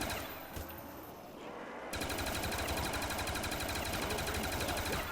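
Sustained rapid automatic fire from an RPK machine gun in Black Ops 1 Zombies on Der Riese, starting after a quieter lead-in and then rattling on loud and steady in a dense, even rhythm.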